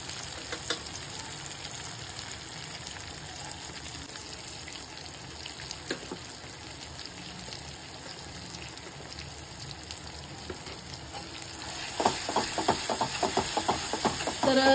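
Tomato pieces sizzle and fry steadily in a hot pan while cooking down for a drumstick (shevga) amti, with a continuous hiss that grows louder and more crackly near the end as spices go in.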